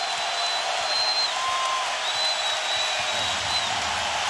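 An NBA Finals arena crowd in San Antonio cheering and applauding steadily on its feet, a broad sustained roar with whistles rising over it throughout.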